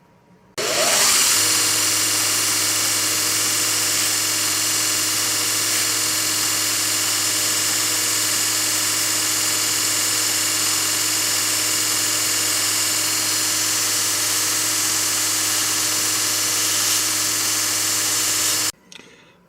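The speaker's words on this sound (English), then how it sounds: "You think the chances are I can go over to the belt sander and sand some of that off." A belt sander grinding down a small metal part for a Go-For digger, a loud steady motor whine with abrasive hiss running unbroken for about seventeen seconds before stopping abruptly.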